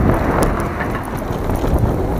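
Wind buffeting the microphone while riding an e-bike on a bike path outside town, a steady low rumbling roar filling the whole moment with no voices.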